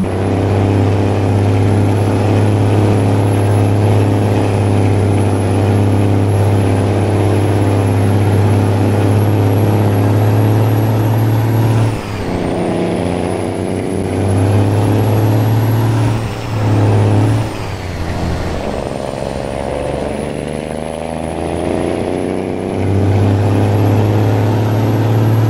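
Simulated VW 26-420 truck engine droning loud and steady as the heavy nine-axle rig climbs a mountain road, with brief dips around missed gear changes before the low roar resumes.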